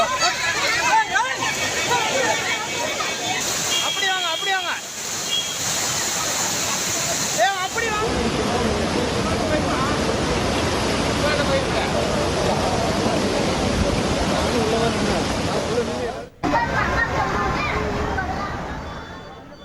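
Floodwater rushing at Courtallam falls in Tamil Nadu, a broad, loud roar of torrential water that persists throughout, with voices and crowd chatter over it and a brief cut near the end.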